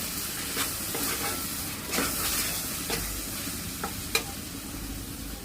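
Water is splashed onto frying spices and cashew paste in a pan, raising a steady sizzling hiss with stirring and a couple of sharp metallic ticks; nobody speaks.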